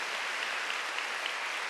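A church congregation claps at a Wednesday worship service, a steady, even wash of applause filling the short moment with no voices standing out.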